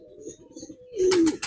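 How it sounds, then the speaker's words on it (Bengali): Pet pigeons in a home loft, a soft low coo followed by a brief, louder burst of cooing and wing rustle, close by and alone. "এটা হলো নট কবুতর"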